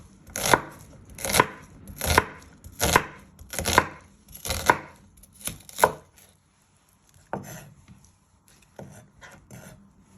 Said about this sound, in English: you want to turn it around and you just want to finely slice it